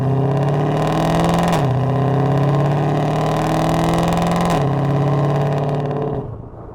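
A 2020 Ford Shelby GT500 with a Lethal track exhaust in track mode roars loudly and continuously, its revs dipping briefly twice before the sound fades at the end.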